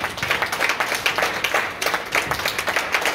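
Audience applause at a pastors' conference, moderately loud with uneven bursts of clapping that swell and dip, steady for a few seconds with little talk.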